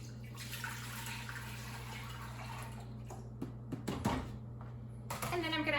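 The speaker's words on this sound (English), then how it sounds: "the first thing I need to do is add the black bean broth into this pot." Black bean broth pours into a cooking pot with a soft splashing trickle that builds toward the end, over a steady low kitchen hum.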